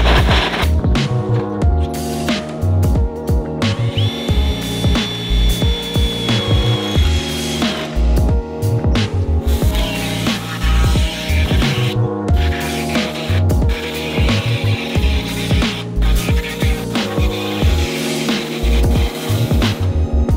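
Air hacksaw cutting a hole in the car body of an LDV T60 for a snorkel kit, a loud, close, rapid reciprocating buzz that runs steadily throughout with brief pauses and no talking.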